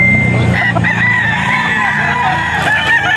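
A 13-month-old gray gamefowl rooster with a straight comb crows loudly and close by, one long drawn-out call filling the moment, with faint background noise.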